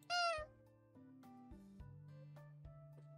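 A cat meme remix loop opens with a loud, bright cat meow, followed by a quiet synth melody with stepping notes and soft beats.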